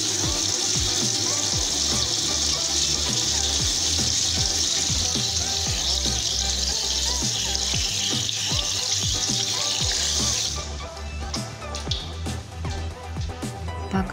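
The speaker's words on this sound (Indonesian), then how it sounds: "Cuci kedua tangan dengan sabun dan air mengalir" Hands are washed with soap under running tap water, a steady close rush of flowing water with rubbing and splashing that stops near the end, leaving softer drips and handling noises.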